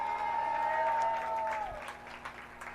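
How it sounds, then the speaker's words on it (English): A crowd applauds at a Hollywood Walk of Fame ceremony honoring a band, with sustained dense clapping and a held tone fading midway. "You can cheer for that song."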